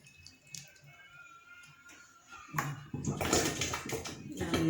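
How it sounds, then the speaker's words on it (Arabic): Water pours into a glass jar of black olives being pickled, starting with faint drips and small splashes, then swelling into a louder gurgling, sloshing stream. "الازازه كان فيها شويه ميه بس انا هزود عليها ميه من غير"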